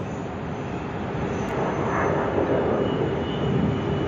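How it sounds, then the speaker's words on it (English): An airplane taking off at Sydney Airport sends a steady broadband engine roar, heard from a distance and swelling slightly midway through, with no talking. "there's a takeoff in the background"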